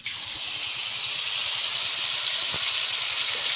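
Ground ginger and cumin paste dropped into hot oil with dried chilli and bay leaf, giving a loud, steady close-up sizzle and hiss that holds without a break.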